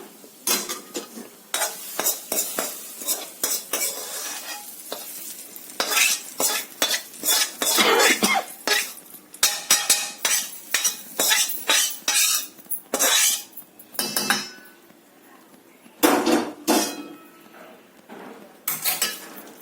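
A spoon scrapes and clinks against a pot while fried onion, okra and tempering are stirred into mashed eggplant pulp, with a rhythmic run of close, busy strokes and a faint sizzle.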